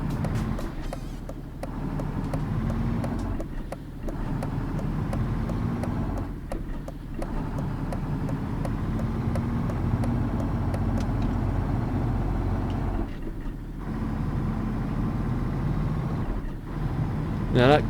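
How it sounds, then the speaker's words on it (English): A DAF NTT truck in Euro Truck Simulator 2 drones steadily, its engine note breaking off briefly several times as the gears shift, while someone talks over it. "Now that gear shift sound, that's not a custom thing for that truck."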